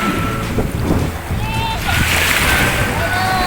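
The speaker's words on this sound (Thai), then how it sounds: "รู้สึกคลื่นจะแรงอ่ะ" Strong sea waves surge and wash along a beach at Rayong, Thailand, a steady loud roar with wind buffeting the microphone, while a child and an adult talk over it.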